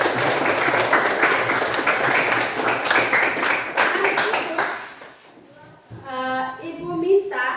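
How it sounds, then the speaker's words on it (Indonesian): A class of students bursts into brisk, crowded clapping at a teacher's prompt in a classroom; the applause runs for about five seconds, then stops abruptly as a voice begins speaking. "Tepuk tangan dulu"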